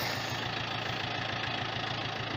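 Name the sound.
Japanese tractor engine running with rotary tiller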